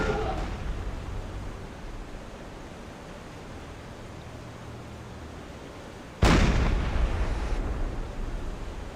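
Enemy ship guns firing in a WWII submarine game aboard USS Drum near Brisbane: a low rumbling wash of noise, then one sudden loud blast that rolls on, with no clear talk over it.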